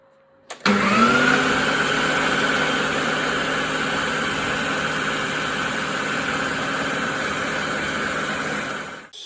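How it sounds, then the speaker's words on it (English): A blender runs steadily for several seconds, chopping fish paste of pollock mixed with gelatin for Chinese-style fishballs, starting abruptly with a loud motor whir and holding an even, droning pitch until it cuts off. "So back into the blender"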